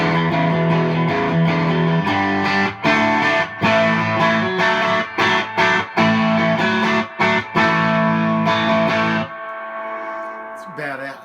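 A distorted electric guitar through a Vintage Sound Amps Vintage 22 tube amp plays crunchy chords and riffs with gritty overdrive and spring reverb ambience, loud and close, then a chord rings out and fades.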